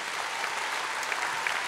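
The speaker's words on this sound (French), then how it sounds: "on peut vraiment les applaudir parce qu'elles ont choisi des chansons très compliquées à chanter" Audience applause for young singers at the Kids Voice Tour season 5 final in Montreux, a steady, dense wash of clapping hands that holds evenly for under two seconds, with no voices over it.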